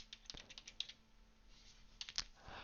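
Quiet, close keystrokes on a computer keyboard entering text into an Excel cell, a short irregular burst of taps, then a brief pause and a few more.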